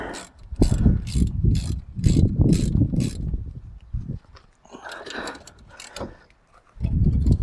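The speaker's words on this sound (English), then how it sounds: "We've got a 70mm spanner and a 40mm ratchet, and we'll start doing these nuts up on the back of the caliper." A 40mm ratchet tightens nuts on the back of a brake caliper on a Mazda MX5 NC, giving close, repeated bursts of ratchet clicking, then a quieter pause with light metal handling before more ratcheting.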